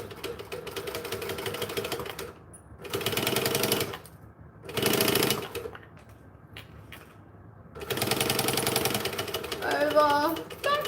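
A sewing machine back stitches a quilt piece in separate loud rattling runs with brief pauses between them, then one longer run near the end, heard close up.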